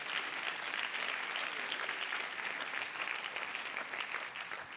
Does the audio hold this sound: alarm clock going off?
no